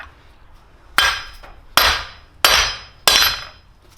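A hammer taps a socket to drive out the wheel hub on a crashed Subaru Forester, four sharp metallic strikes close by, evenly spaced, each ringing briefly before fading.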